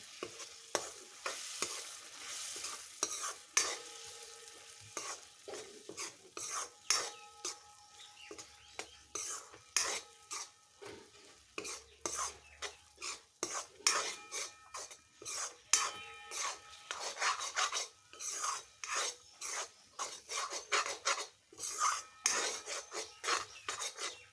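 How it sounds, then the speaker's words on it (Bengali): Food being stirred in a pan for a boiled egg dish after a splash of water is added, with rhythmic scraping strokes of a utensil over a soft sizzle, close and steady throughout, and faint talk in places. "দিয়ে ভালো করে নাড়াচাড়া করে নিতে হবে"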